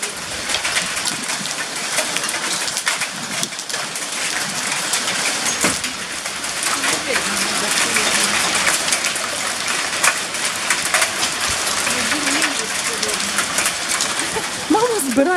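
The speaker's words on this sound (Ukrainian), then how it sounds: "Ось такий в нас падає град. Дивіться, які шарики падають з неба." Hailstones pelt down outdoors in a dense, loud, continuous clatter that holds for the full length, with voices chatting and laughing over it.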